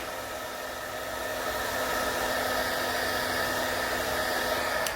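A steady hot-air blower heating vinyl on canvas whirs with an even, unbroken hiss, loud and close, holding constant throughout.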